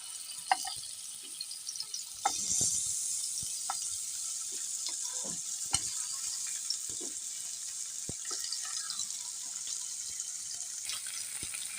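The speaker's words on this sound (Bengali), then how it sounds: "মাছগুলো উল্টিয়ে পাল্টিয়ে ভালোভাবে ভেজে নেই" Rohu fish head frying in hot oil, a faint continuous sizzle with scattered clicks and taps of the pieces being turned over in the pan.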